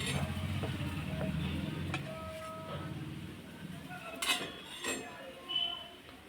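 A cooked dry wild-vegetable bhaji is scooped out of a pan with a spoon, giving a few faint scrapes and sharp metallic clinks against the pan over a quiet kitchen background.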